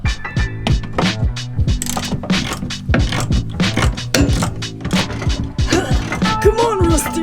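Ratchet wrench loosening a rusty bolt inside a truck, a fast run of loud, close ratcheting clicks in uneven bursts with short pauses, and some brief talk mixed in.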